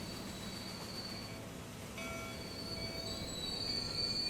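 A train in the railway game Transport Fever 2 runs steadily along the rails, a continuous rumble with high wheel squeal rising and falling over it, fairly close and alone.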